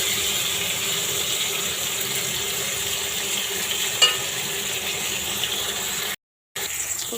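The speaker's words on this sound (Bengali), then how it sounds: "এবার পটলটাকে আমি লাল লাল করে ভেজে নেব।" Pointed gourd (potol) slices frying in a pan with a little salt: a steady, even sizzle with faint stirring clinks, constant and unvoiced, with a brief silent gap near the end.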